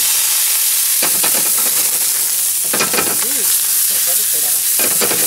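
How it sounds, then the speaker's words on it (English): Pineapple caramelizing in a little fat in a hot pan gives a steady loud sizzle, with stirring clatter and scraping bursts throughout. "We're gonna caramelize our pineapple and use it for our sauce."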